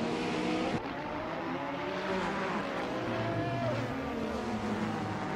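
LMP1 race cars in a racing game starting at Misano, a dense roar of several engines at once, steady and loud with rising revs and faint tire squeal, no talk.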